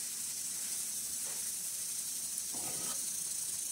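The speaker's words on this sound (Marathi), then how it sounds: "तर मैत्रिणी बघा आता छान अशी भेजा फ्राय होत आहे" Goat brain fry (bheja fry) sizzles in a pan with a steady, fairly quiet hiss and a couple of brief bursts of crackle.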